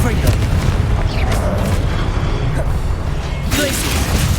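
A Confringo fire spell blast in the Hogwarts Legacy video game makes a loud, booming burst over a dense rumble, with a second whooshing hit near the end and a voice speaking in the mix.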